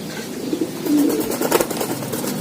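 White racing pigeons kept for high-flying training in Pekalongan coo nearby, with a low murmuring call that swells midway and continues steadily throughout.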